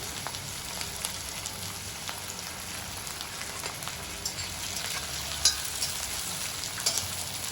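Onions hit hot oil already crackling with mustard seeds and cumin for a dry prawn and ridge gourd masala curry, giving a soft continuous sizzle and frying patter with a few sharper pops, no voices.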